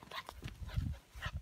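Dog out in an open field, heard close by as soft panting, snuffling and paw rustles while it moves around near the microphone, with a brief quiet pause in the middle.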